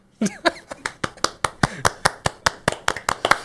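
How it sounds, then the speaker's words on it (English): A small group clapping hands close by in a podcast studio, roughly fifteen sharp, evenly spaced claps in quick succession, with a brief cough-like vocal sound mixed in. "We did clap for him though."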